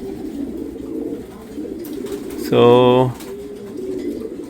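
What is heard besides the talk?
racing pigeons cooing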